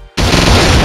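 Grenade explosion in the video game Operation Pinkeye: a sudden, very loud blast that bursts in after a brief quiet moment and holds as a dense, roaring wall of noise.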